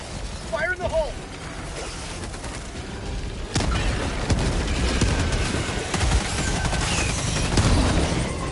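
A thrown grenade explodes in Helldivers 2, a sudden broad blast followed by sustained rumbling battle noise, with a voice talking over the combat.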